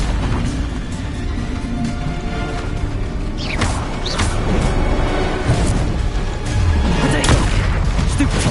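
Explosive spell blasts in Hogwarts Legacy, repeated booming bursts and crackling impacts over a dense, loud game soundscape, continuous and close.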